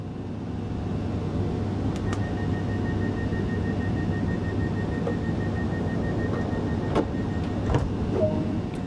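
In Train Sim World on the East Coastway line to Eastbourne, a train pulls out of the station with a steady low rumble and hum, joined by a few faint clicks and brief tonal whines as it moves off.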